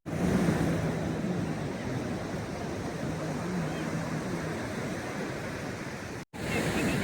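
Sea waves roar on the shore in a continuous, dense wash of surf, with faint voices beneath; the steady roar drops out for a split second near the end.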